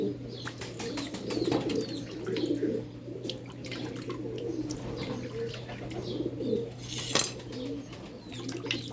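A loft of domestic pigeons coos and chirps steadily while being given medicated drinking water, with a constant low hum and a few clinks of containers around them.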